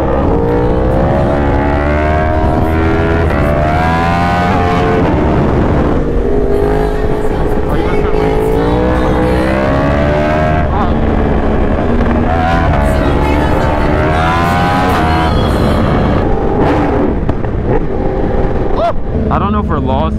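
A BMW S1000RR and a Yamaha R1 accelerate hard together, with loud, continuous rising engine tones that repeatedly climb in pitch through gear changes, dense and close throughout.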